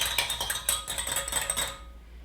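Tallow balm being stirred in a container, a steady run of soft scraping and light clinking strokes, close and fairly quiet, with no talking, ending abruptly in silence.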